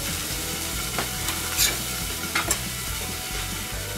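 Burger patties fry on a grill as a steady broadband sizzle, with a few brief louder crackles and pops cutting through near the middle; no one speaks.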